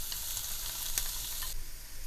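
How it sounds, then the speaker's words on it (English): Onions sauteing in coconut oil with curry leaves and spices give a steady, close, hissing sizzle for the whole stretch, with a faint clink partway through and no voices. "So we're going to saute the onions until they turn nice and transparent"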